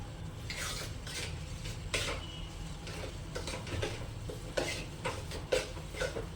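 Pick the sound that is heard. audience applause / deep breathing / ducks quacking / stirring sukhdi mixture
stirring sukhdi mixture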